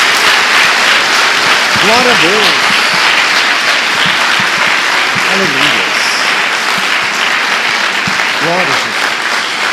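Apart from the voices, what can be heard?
applause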